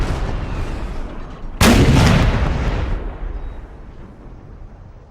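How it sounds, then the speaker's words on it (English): Artillery fire in a Napoleon Total War battle: a single loud cannon boom bursts out and then rolls away into a long fading rumble, over a background of distant battle noise. "They will win the artillery duel."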